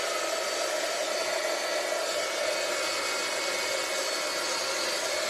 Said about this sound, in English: you need to warm up your embossing gun